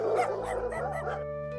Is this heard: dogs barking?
yes